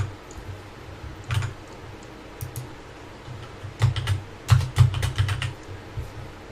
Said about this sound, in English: you just do that by clicking in the field and just start typing